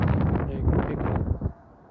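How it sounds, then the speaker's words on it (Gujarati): Strong wind off the beach at Al Layyah Canal, Sharjah, at night buffets the microphone in a loud, rumbling roar that cuts off abruptly near the end. "પવન બહુ જ છે, ફૂલ પવન છે"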